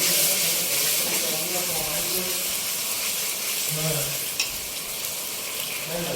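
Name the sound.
red chili sauce frying and being stirred in pan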